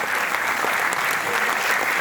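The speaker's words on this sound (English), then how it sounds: "let's give a loud round of applause to the next person, not to yourself." A loud round of applause from the audience at a talk at IIMB Bangalore, continuous dense clapping holding steady throughout without a break.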